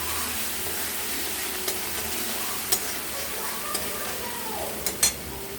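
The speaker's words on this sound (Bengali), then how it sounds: "মশলাটা কষানো হয়ে গেছে," A spice paste with Kashmiri chilli powder sizzles steadily as it is sautéed in a pan for a mustard-poppy fish curry, a constant frying hiss with a few faint scrapes and clicks from stirring.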